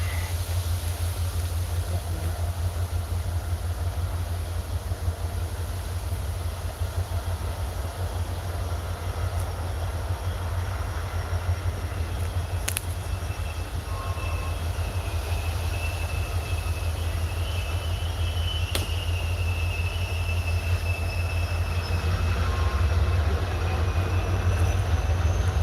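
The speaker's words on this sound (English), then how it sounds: "That's a freight train coming by." A freight train rolls past nearby, a loud, steady rumble and clatter of rail cars that continues without letup, with a faint squeal now and then and no talking.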